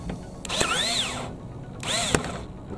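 Power tool loosening a bolt on a drink holder bracket inside a Suzuki Jimny, two short rising-and-falling whirs with a sharp click between them, close and fairly loud.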